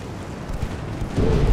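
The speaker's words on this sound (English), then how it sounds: "That torpedo is going to hit." A torpedo strikes a warship in the naval strategy game Ultimate Admiral Dreadnoughts, a low rumbling boom that swells in the final half second over a steady windy background.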